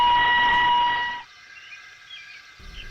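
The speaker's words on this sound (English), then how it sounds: "he blew an angry peep, peep on his whistle" Thomas the Tank Engine gives a short, shrill steam whistle blast with steady tones, loud and close, lasting about a second before cutting off into near silence and a low rumble.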